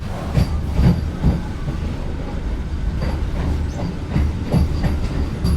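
A Vande Bharat Express runs at about 130 km/h out of Delhi, heard from inside the coach as a steady loud rumble with rhythmic clickety-clack wheel beats recurring throughout.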